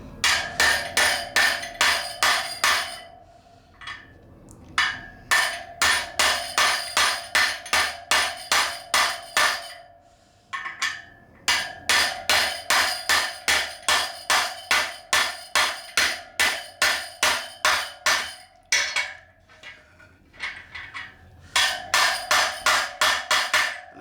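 Hammer driving a wheel bearing into a KTM dirt bike hub, a long run of rapid ringing metallic blows in several bursts with brief pauses, close and loud with no talk.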